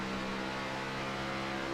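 Race car engine on board during a NORA B Series race at Charlotte, steady droning tone as the driver lifts off the throttle and the revs settle lower, close and continuous with no talk.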